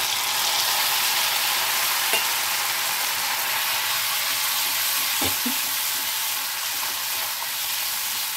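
Sesame paste frying in a hot spice tempering with radhuni for a Bengali bora rasa, a steady, close, loud sizzle that runs throughout, with a few faint clicks of stirring and no talk.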